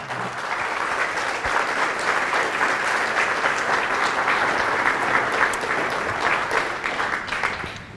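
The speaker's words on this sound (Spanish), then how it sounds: "Fuertes aplausos a Jesús." A church congregation at a Catholic service claps loudly for Jesus, a thick continuous wash of applause that holds steady throughout, no voices rising above it.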